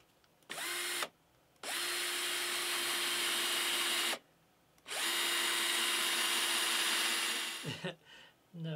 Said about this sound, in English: So I've got to cut a semicircular section out from here.